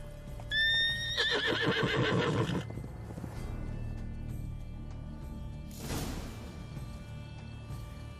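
A horse neighs loudly in a video game, a long whinny with rising and falling pitch, followed by a flurry of hoof clatter and a later burst of noise over a steady ambient background.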